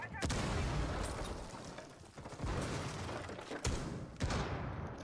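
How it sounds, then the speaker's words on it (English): A frag grenade exploding during a breach in the Rainbow Six Siege video game, with loud booming blasts and scattered sharp impacts over dense, rumbling battle noise through the whole stretch. "Tossing frag grenade."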